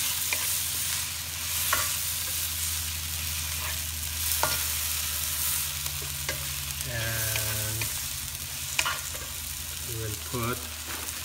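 Pinakbet vegetables stirred and sizzling in a pan, a steady frying hiss broken by repeated scrapes and clacks of a utensil, with brief tonal clinks near the end; no talking.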